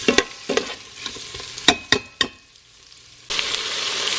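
Onion and ginger sizzle in an Instant Pot for pork sinigang, with several sharp stirring clacks of a utensil against the pot before a steady frying hiss takes over.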